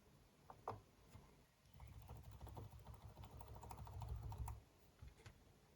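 A key pressed on the keyboard of an HP 255 G3 laptop with an AMD E1, heard as a few soft, close clicks and taps with a low rumbling handling noise, and no talk.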